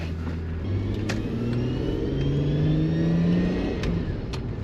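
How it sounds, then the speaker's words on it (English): Mark IV Toyota Supra with a big single-turbo conversion and manual gearbox, driven hard from the cabin: the engine revs up loud and close through rising pulls, with a gear change partway through the steady roar. "First drive in a Mark IV Toyota Supra"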